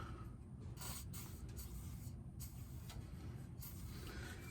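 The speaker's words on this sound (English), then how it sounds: "A little bit of penetrating oil on that first." Penetrating oil sprayed from an aerosol can onto a nut during ball joint replacement on a 2004 Toyota Sienna, heard as several short hissing bursts close by over a low background rumble.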